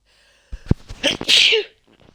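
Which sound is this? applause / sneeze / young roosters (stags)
sneeze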